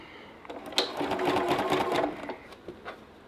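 A sewing machine stitches a seam on a quilt block in one short, steady burst of rapid mechanical whirring lasting just over a second, then falls quiet apart from a few soft clicks.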